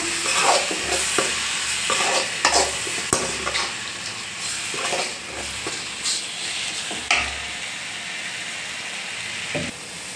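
Stirring egg curry masala in a frying pan, with a spoon scraping the pan in repeated strokes over a steady sizzle and hiss.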